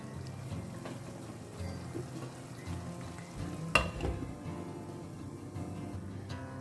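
Squid chilli cooks covered in a pan, a soft steady sizzle and bubbling with one brief louder clatter midway, no talking.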